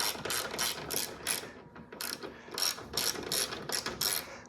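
Ratchet wrench removing suspension bolts on a BMW F30 during a sport spring install: rapid clicking bursts in short repeated strokes, close and clear, with brief pauses between pulls.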